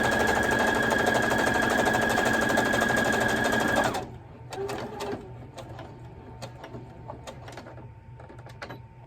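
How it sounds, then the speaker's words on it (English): A domestic sewing machine runs fast and steady for about four seconds, closing a rod pocket with a one-inch ruffle along the top, then stops. Faint clicks and handling noises follow at close range. "now the next thing I'm going to do is sew the ruffle at the top, and that closes the rod pocket"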